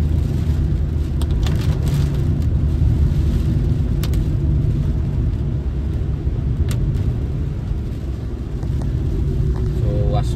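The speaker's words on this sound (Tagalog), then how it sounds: "kay daw grabe gid hangin" Strong typhoon wind in Iloilo City roars as a constant loud low rumble buffeting close by, with scattered faint clicks and rattles over it and no gaps throughout.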